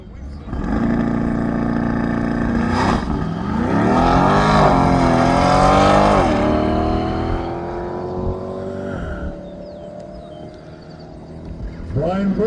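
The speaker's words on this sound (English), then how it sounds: "Brian Brooks just left the starting line, and he usually runs out to the 2K." Brian Brooks's car leaves the starting line at an East Coast Timing Association standing-mile event. The engine revs hard through rising gear pulls, loud and near at first, then fades into the distance as the car runs away.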